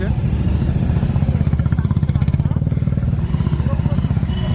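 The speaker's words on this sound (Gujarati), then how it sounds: "અહીંયા પણ બાઇકોનો ટ્રાફિક" Motorcycles crowd a jammed road at night in Prayagraj during the Mahakumbh. Their engines make a close, continuous, rapidly pulsing rumble that stays loud throughout.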